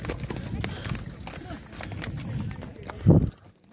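Horses walk along a Himalayan mountain trail on the Amarnath Yatra route, their hooves clip-clopping faintly in a busy outdoor din, with a louder thud near the end.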